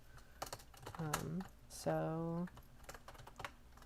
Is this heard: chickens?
no